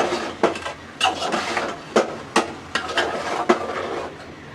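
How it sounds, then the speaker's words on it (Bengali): A metal spoon clattering against a cooking pot while stirring ridge gourd curry, sharp uneven knocks about every half second, close and fairly loud with no talking. "বেশি খটখট আওয়াজ হইতেছে, থাক আর না নাড়াচাড়া করি।"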